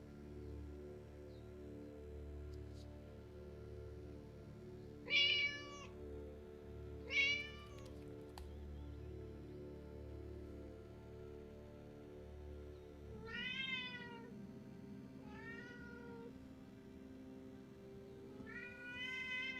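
A cat meows about five times, in distinct calls spaced a few seconds apart, clear and fairly close over a quiet, low background hum.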